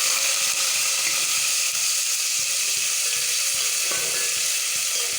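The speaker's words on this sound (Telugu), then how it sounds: "ఆనియన్స్ వేస్తున్నాను." Onions frying in hot oil for a gongura onion biryani, a loud, continuous bright sizzle with occasional stirring scrapes and no talking.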